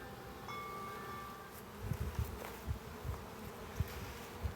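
A honey bee swarm hums steadily outdoors as bees are shaken onto the front of a hive box, a dense buzzing drone with soft thumps and rustles rising over it.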